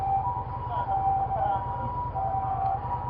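An ambulance siren out on a city street in Tokyo, a steady wailing tone heard at moderate distance over a low rhythmic engine hum and traffic noise.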